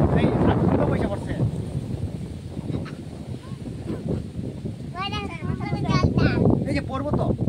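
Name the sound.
wind blowing outdoors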